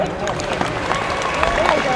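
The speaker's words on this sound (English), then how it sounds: "Clap again if you're alert." A street protest crowd at night claps in a loose burst of applause, mixed with crowd noise and voices talking over it, close and fairly loud throughout.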